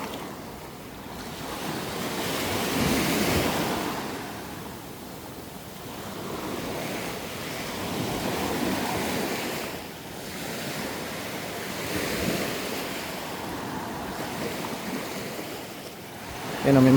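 Waves washing onto a Boracay beach at high tide, slow swells of surf rising and falling every few seconds, mixed with wind buffeting the microphone.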